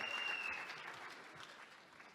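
A crowd applauds steadily, the clapping loudest at the start and easing slightly as it continues, with no voices over it.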